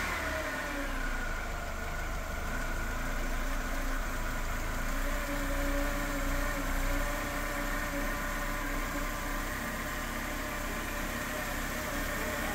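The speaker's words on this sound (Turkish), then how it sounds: "araca marş vererek ilk çalışmasını nihayet gerçekleştirdik" A Mercedes W124 220E engine with a repaired HFM ECU idles steadily and close by, a continuous low rumble with a slight unevenness and no pauses.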